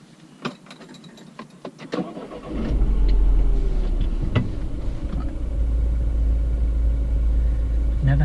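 A car engine starts after some mechanical clicks, then keeps running as a steady low rumble inside the car.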